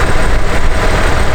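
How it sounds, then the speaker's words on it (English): A loud, steady engine roar from a BMW G80 M3 fitted with front mount intakes, with a breathy intake induction rush filling the clip without pause. "A lot of induction noise now"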